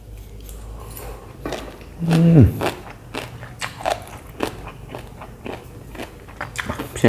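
Loud, close bites and crunches of crispy pork rinds eaten with spicy papaya salad, irregular crackling chews spread through the whole stretch, with one especially heavy crunch partway in.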